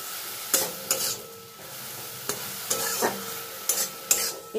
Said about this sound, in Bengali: এবার সব কিছু একসঙ্গে আমি নাড়াচাড়া করে গ্যাসের ফ্লেমটা অফ করে দেব